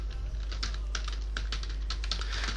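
Rapid keyboard typing as text is entered into an Excel sheet, a close, continuous stream of clicks over a constant low hum.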